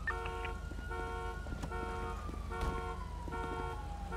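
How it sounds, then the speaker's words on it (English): A siren from the video game GTA 5 wails in a steady repeating pattern, fairly faint and distant, over a low engine rumble with no talk. "Let's let this siren pass by a little."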